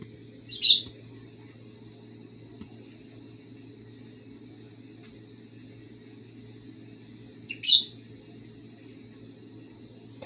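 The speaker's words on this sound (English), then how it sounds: "My bird's in the background." A pet bird chirps in short bright bursts from the background of an indoor room, two separate calls several seconds apart over a low steady hum.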